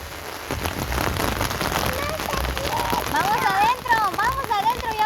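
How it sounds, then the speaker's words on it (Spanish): Rain beginning to fall at Piedras Lisas in Joyabaj, Quiché, a steady patter of drops on surfaces with a voice and other speech over it. "Empezó a llover."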